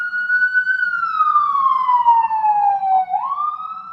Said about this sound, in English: when I hear a siren, I just say a silent prayer